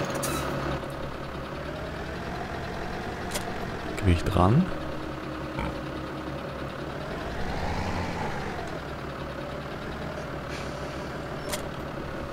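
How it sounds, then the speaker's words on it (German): A tractor engine in Farming Simulator 2017 drones steadily at low pitch, swelling slightly partway through, while someone speaks briefly over it. "Jetzt steigen wir in den Traktor."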